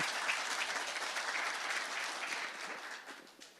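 An audience at a televised interview with a Bhojpuri singer claps steadily, a broad wash of applause heard from a middle distance that holds evenly for several seconds before tapering slightly.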